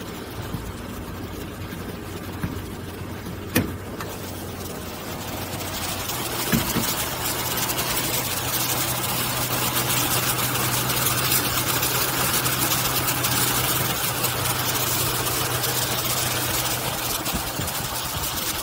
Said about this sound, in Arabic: هذا محرك السيارة،